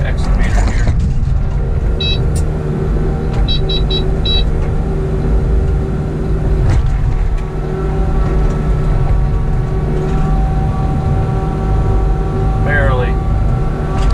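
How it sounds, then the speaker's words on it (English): An excavator's engine drones steadily while it works to lift a Camaro abandoned in the hills onto a dump trailer, with faint mechanical clanks and brief metallic squeals over the continuous motor hum. "Let's see if we can pick this car up with the excavator here."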